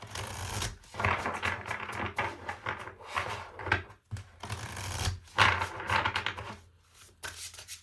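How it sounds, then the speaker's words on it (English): A deck of cards riffled and shuffled by hand during a tarot-style reading, giving repeated close, crisp bursts of rapid flutter and slapping with brief pauses between them and no talking. "Let me shuffle this."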